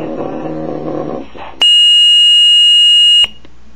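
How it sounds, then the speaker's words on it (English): Motorola Minitor III pager in test mode gives one steady, loud electronic beep lasting about a second and a half, cutting in after some background noise and stopping abruptly. "Once more, it's going to beep,"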